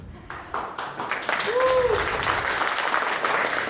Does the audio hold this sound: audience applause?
yes